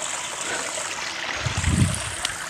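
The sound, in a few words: river stream flowing water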